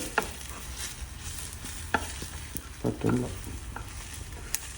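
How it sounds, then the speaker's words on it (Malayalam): Masala omelette mixture stirred and sautéed in a pan, with a low steady sizzle under scattered scraping and clinking taps of the utensil against the pan. "എന്നിട്ട് ജസ്റ്റ് ഒന്ന് ഇങ്ങനെ ഇളക്കി കൊടുക്കുക. ജസ്റ്റ് നമ്മുടെ ഒരു സൈഡിലേക്ക് വെച്ചിട്ട് ജസ്റ്റ് ഇങ്ങനെ ഒന്ന് സോട്ട് ചെയ്ത്"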